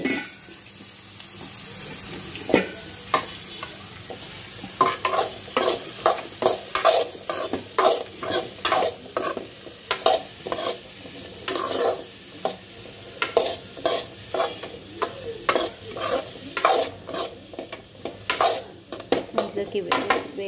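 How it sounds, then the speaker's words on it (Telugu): Carrot, capsicum and cauliflower frying in hot oil with tempering spices, a continuous sizzle broken by frequent sharp scrapes and clinks of a metal spoon stirring the pan, close up and uneven in rhythm. "వేగుతున్నాయి కదండి"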